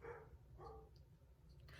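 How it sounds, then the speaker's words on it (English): A puppy in the background gives a few faint, distant barks and yips against a quiet room hum. "I apologize if you can hear the puppy in the background"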